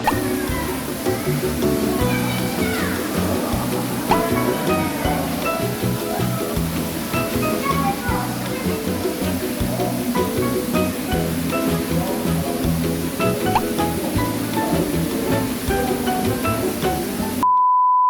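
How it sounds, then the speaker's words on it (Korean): An indoor waterfall in a reptile zoo pours with a steady, loud rushing and splashing wash that fills the space continuously, with faint background sounds mixed in. "이렇게 폭포 넘어 오시면은"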